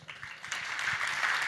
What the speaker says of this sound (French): Je vous remercie d'avance de bien l'applaudir.